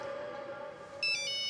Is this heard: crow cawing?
no